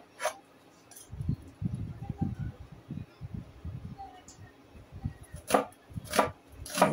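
Onion being cut into cubes with a knife on a board, a steady run of close, crisp chopping strokes in uneven bursts, with a few sharper clinks toward the end.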